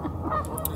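A short, nasal honk from a goose-like waterfowl, close by and fairly loud, heard alone.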